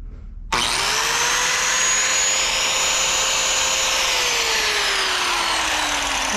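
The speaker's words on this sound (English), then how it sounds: "Let's try the grinder. This little grinder right here." A small 500-watt DeWalt angle grinder kicks on abruptly after a brief silence and runs alone as a steady, loud, high-pitched whine with a slowly falling motor tone.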